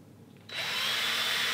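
A hand-held drill bores through a pre-drilled hole in a wooden marking gauge held in a vise. It starts abruptly after a brief quiet moment, then whines steadily and fairly loudly.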